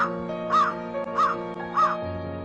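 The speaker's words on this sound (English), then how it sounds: "A crow crows." A crow caws three times at an even, unhurried pace, each call harsh and close, with a steady low hum beneath.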